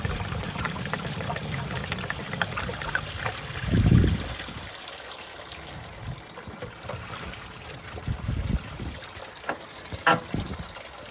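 Old coolant draining from a Ford Foxbody Mustang, a steady low trickle and pour of liquid into a pan, with a brief louder gush partway through and faint splashes near the end.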